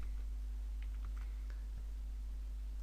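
A computer keyboard is typed on while working in After Effects: a brief cluster of light, quick clicks close by over a steady low electrical hum, then quiet.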